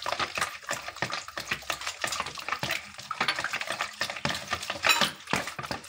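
Crepe batter mixed with milk in a bowl, heard as quick rhythmic sloshing and tapping of a whisk or spoon against the bowl, close and continuous, with no voices.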